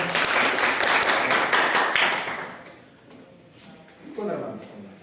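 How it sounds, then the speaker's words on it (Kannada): Applause for a quiz contestant at a school event, a burst of loud group clapping that fades after a couple of seconds, followed by a voice speaking. "ಜೋರ ಚಪ್ಪಾಳೆ"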